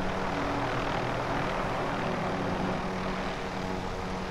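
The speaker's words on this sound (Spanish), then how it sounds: "Me parece que es el del helicóptero" Helicopter flying in the video game Call of Duty: Modern Warfare, a steady droning rotor and engine roar that holds loud and even throughout.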